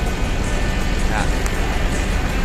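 A Gumarang Jaya bus of the Mandalika class pulls into a parking area, its engine giving a loud, steady rumble mixed with broad road and crowd noise for the whole stretch.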